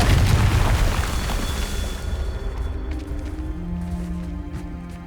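Confringo explosion spell in the video game Hogwarts Legacy: one loud, deep boom that rolls out and fades over several seconds into a low rumble with faint crackling debris.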